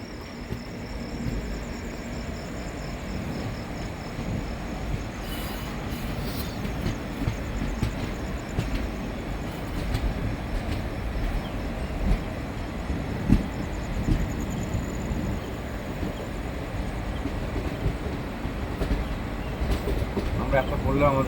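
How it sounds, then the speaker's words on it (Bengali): A Jalpaiguri Road–Sealdah Humsafar Express at platform 5 of Azimganj Junction station gives off a steady, broad rumble of rail noise for the whole stretch, with faint station ambience around it. "আজিমগঞ্জ জংশন রেলওয়ে স্টেশনের 5 নম্বর প্ল্যাটফর্ম লাইনে"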